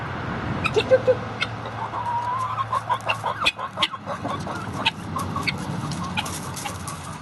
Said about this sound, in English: Okay guys, so I'm inside the chicken coop now.